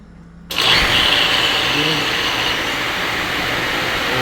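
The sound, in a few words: electric motor being tested at a refilling station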